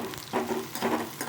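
Chopped onions sautéing in oil for a dried fish fry, a close sizzle with stirring scrapes in short bursts.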